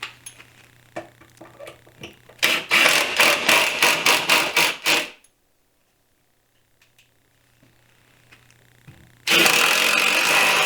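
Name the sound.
power driver driving 2-inch screws into deck table boards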